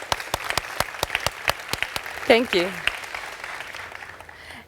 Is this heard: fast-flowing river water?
no